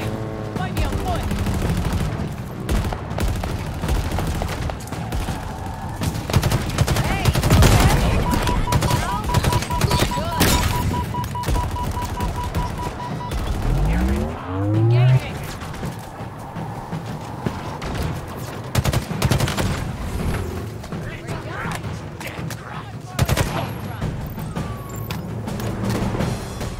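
Mounted gun firing in Halo Infinite, sustained automatic bursts over roughly half a minute, loud and continuous with some engine and vehicle noise mixed in.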